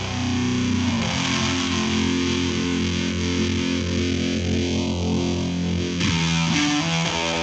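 Heavy fuzz and distortion with a scooped tone, thick buzzing harmonics held continuously and loud throughout, with sweeping filter movement and a shift in texture near the end.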